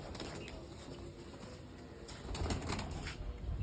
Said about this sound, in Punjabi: ਆ ਗਏ ਬਾਈ ਸਾਰੇ ਕਬੂਤਰ